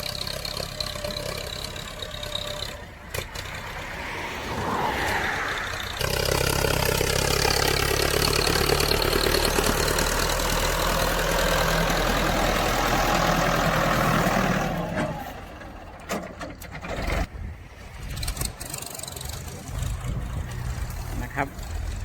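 A heavy tractor engine pulling a disc plough rumbles loudly and steadily for several seconds while levelling paddy-field bunds and clearing banana stumps, with lighter mechanical clatter and shifting noise before and after the main run.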